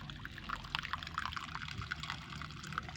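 Water trickling and pouring as coolant is bled out of an engine unit during a general overhaul, a steady splashing flow with small drips heard close up and alone.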